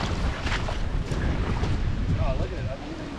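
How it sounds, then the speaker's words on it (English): Strong gusting wind rushes past a creek during stormy weather, buffeting the microphone in a loud continuous roar, while a voice briefly speaks partway through. "It ain't raining, it's just windy now."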